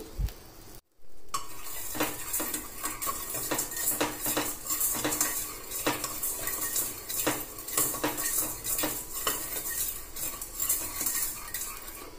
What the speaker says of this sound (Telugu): ఇప్పుడు మనం 1 టీ స్పూన్ దాకా రాళ్ళుప్పును కూడా, క్రిస్టల్ సాల్ట్ని కూడా కొద్దిగా ఫ్రై చేసుకుందాం.